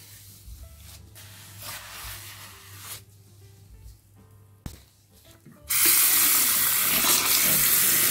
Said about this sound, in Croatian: a zatim sve isperite sa vrućom vodom